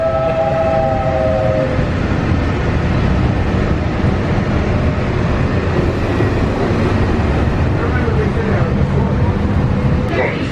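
A Disney World monorail train rumbles past with a steady, loud roar throughout, a brief horn-like tone near the start, heard from close by.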